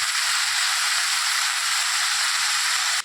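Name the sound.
vegetables frying in a pan for jhinge alu posto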